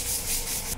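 Brisk scrubbing on stained bathroom tiles, a close, loud rasping rub in a few quick back-and-forth strokes.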